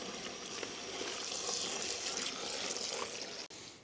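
Tap water runs steadily into a container being filled to soak dried fish for home preparation, a continuous close hiss and splash with no talk.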